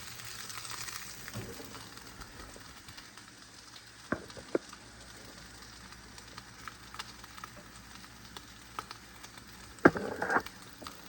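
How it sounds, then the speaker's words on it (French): Minced meat fries in a pan with a low, steady sizzle, broken by occasional sharp clinks and scrapes from utensils, including one louder clatter near the end. "la viande hachée présentement est en train de cuire vite et bien"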